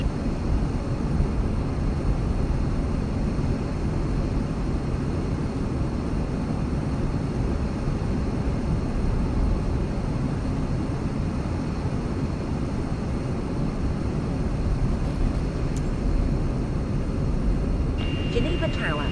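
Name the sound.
airplane taking off from runway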